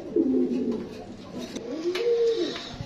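Lakka racer pigeons on a farm give soft, close, low coos, a couple of rolling calls one after another with little else around them.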